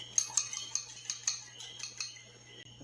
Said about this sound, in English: we have 2 eggs that we're going to beat up a little bit